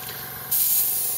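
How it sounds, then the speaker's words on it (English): An airbrush starts spraying primer for a Gundam plastic model, a sudden close, steady airy hiss that carries on to the end after a quieter moment. "spray off to the side before you begin, and just test a little bit"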